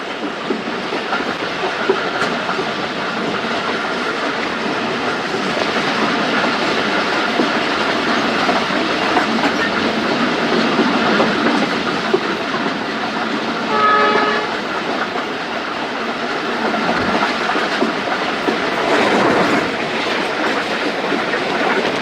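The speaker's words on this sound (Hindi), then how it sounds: "जिक्रिया एक्सप्रेस भी सामने आ चुकी है दोस्तों" The Zakariya Express passes a railway station in Pakistan with a steady loud rumble and clickety-clack of wagons, and a brief horn sounds partway through.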